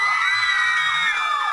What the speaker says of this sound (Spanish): Por favor, un fuerte aplauso para Shawn Mendes.